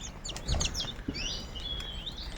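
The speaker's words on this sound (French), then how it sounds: "des oiseaux qui viennent de passer là" Birds passing overhead chirp in a quick flurry of short, high calls, fairly faint and distant outdoors, with no talk over them.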